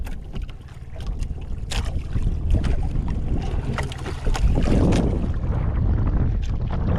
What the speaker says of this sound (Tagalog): Malakas ang hangin yan, malakas.